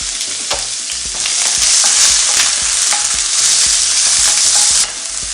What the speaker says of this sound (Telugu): కొంచెం వేగనిద్దాం బ్రౌన్ వచ్చేదాకా